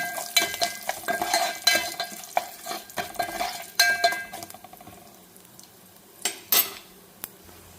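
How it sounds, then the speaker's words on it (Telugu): A spoon stirs and clinks against a pan as small onions and curry leaves fry with a light sizzle in tempering oil, busy at first, then thinning out to occasional sharp clinks. "పోపు అయితే వేగింది ఆనియన్స్ వేస్తున్నాను నేను"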